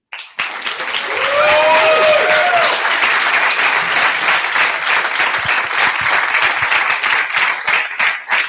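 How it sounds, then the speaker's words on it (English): A large audience applauds a team at a Munich event, a loud, sustained burst of dense clapping that swells quickly and holds steady, with no talk over it. "So a huge round of applause to the team"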